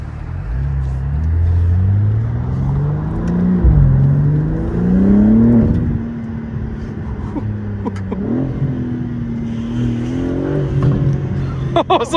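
A 2025 BMW M4 Competition xDrive convertible revving hard, its engine note climbing and falling through several pulls with sharp exhaust pops and crackles, loud and close from the car, with no talk.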